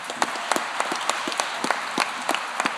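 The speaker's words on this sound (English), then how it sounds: "Round of applause for this car." An audience in a great hall applauds a newly unveiled student-built race car, the clapping steady and moderately loud across the whole moment, with sharp individual claps popping out above the general patter.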